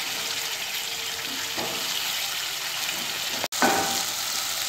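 Masala frying in a pan over a medium flame, a steady close broadband sizzle throughout with a few soft stirring scrapes and one brief sharp dropout near the end.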